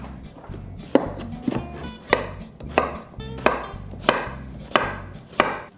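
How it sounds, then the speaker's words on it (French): Knife chopping a peeled pumpkin into large cubes on a board, about nine firm, evenly spaced cuts at close range, each a sharp thud with a short crisp tail, no talking. "Maintenant qu'on a tout épluché notre citrouille, on peut procéder à la couper en gros cubes."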